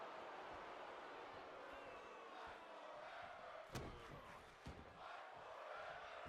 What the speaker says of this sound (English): the crowd's into it